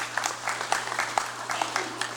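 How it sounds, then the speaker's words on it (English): A congress session audience applauding steadily for a couple of seconds, a dense wash of clapping. "Let's give her a round of applause also."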